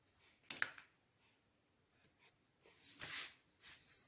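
Scissors cutting scrapbooking paper at a craft table, a few short crisp snips and rustles close by, quiet between cuts.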